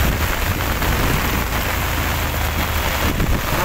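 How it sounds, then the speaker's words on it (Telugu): Heavy rain pours steadily during a drive on the Simhachalam ghat road near Vizag, a dense, continuous hiss of drops drumming on the car, loud and unbroken with no talking. "ఏం నచ్చిందో పడుతుంది వర్షం."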